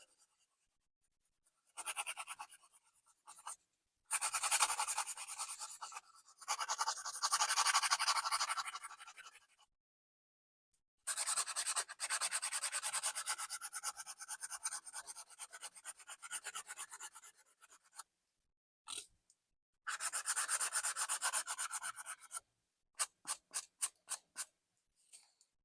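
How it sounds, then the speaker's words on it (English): Sanding the sprue off a cast resin fishing bait gives a close, dry rasping scrape in several bursts of strokes separated by short silences, ending in a few quick separate rubs. "We'll just sand the sprue off."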